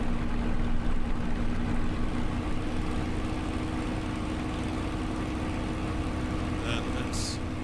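Spitfire LF Mk IXc piston engine in Microsoft Flight Simulator, a steady low droning rumble running throughout at moderate level beneath a voice talking, with a brief brighter noise near the end.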